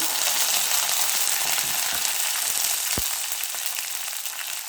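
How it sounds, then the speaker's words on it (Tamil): Chana dal frying in hot oil for a coconut tomato chutney, a steady close sizzle throughout, with one brief soft thump partway through. "கடலைப்பருப்பு போடலாம். இதை கொஞ்சம் வறுத்துக்கலாம்."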